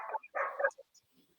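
A dog gives a couple of quick, faint yips and barks in brief bursts, then quiet, in a short moment during a casual music quiz.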